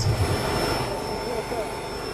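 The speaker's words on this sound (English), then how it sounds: "So that roar you can hear is the afterburner." A loud homemade jet engine roars steadily with its afterburner lit, a broad rumbling blast with a voice speaking over it.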